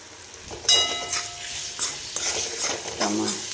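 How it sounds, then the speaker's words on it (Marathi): A spoon scrapes and stirs tomatoes and vegetables for a potato curry in a pan, soft sizzling under a few metallic clinks and short scraping strokes, fairly quiet with faint voice in the background. "तिखट मीठ खालू लागू नये म्हणून तुम्ही छान भाजी टमाटरला हलवत राहा।"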